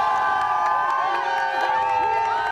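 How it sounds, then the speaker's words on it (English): South Carolina Gamecocks fans at College GameDay on the Horseshoe in 2012 cheer loudly as a dense crowd, with sustained shouting and whooping voices layered into a continuous roar. "The crowd went crazy every time the Gamecocks were mentioned"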